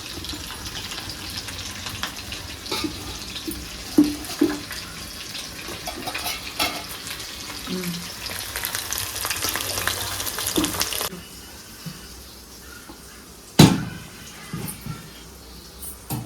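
Chicken dum biryani stirred gently in a pot on the stove, with a continuous low sizzle, scraping and a few clanks of a spoon, then quieter simmering and a sharp metallic knock near the end.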